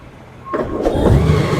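A Gold Wing motorcycle with a DCT gearbox starts up: a short whir, then a smooth, low engine rumble that settles into a steady, close idle.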